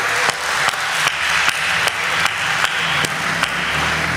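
An audience at a Hindi kavi sammelan poetry gathering claps loudly in a continuous wash, with sharp regular accents about every half second.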